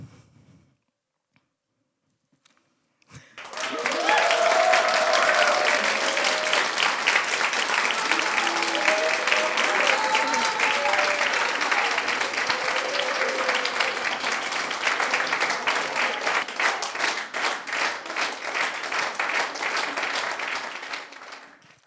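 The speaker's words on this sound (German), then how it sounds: "wir haben tatsächlich lange überlegt, wie wir den Applaus hier ins Planetarium bekommen" Sustained audience applause fills a large planetarium dome after a science slam talk, starting abruptly after near silence and continuing as dense, even clapping for about eighteen seconds, with some voices mixed in.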